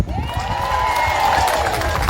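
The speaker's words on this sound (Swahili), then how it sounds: "Makofi ya assistant wake." At a gathering in Thika, Kenya, the crowd claps for the chief's assistant, with fairly loud clapping under a long, wavering ululation and scattered voices.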